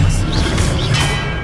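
An Expelliarmus disarming spell is cast in the Hogwarts Legacy video game, giving a loud, continuous crashing whoosh of magical impact that fills the short moment without pause.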